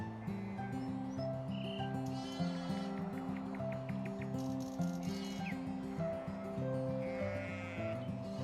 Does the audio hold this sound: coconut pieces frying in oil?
no